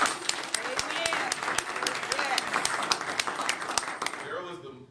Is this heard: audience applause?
yes